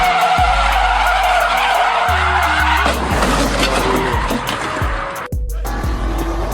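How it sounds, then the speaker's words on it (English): A Nissan 350Z skids with loud, sustained tire squeal and engine revving before hitting a wall, producing a sharp impact thud around the middle, with continued engine and tire noise afterward and no talking. "350Z hits a wall."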